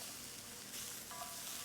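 Onions sizzle steadily in a pan as they caramelize, a soft continuous frying hiss heard faintly and without talk.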